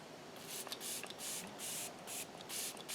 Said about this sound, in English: I really like this setting spray